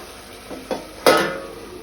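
Mutton for a Goan mutton sukka frying in a pan: a steady sizzle broken by three scraping stirs, the last one loudest, followed by a fading hiss.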